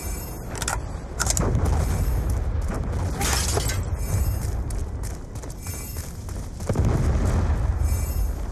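A Hellstorm missile explosion in the video game Black Ops 2: deep, rumbling booms with crackling debris, surging louder twice and rolling on continuously with no speech.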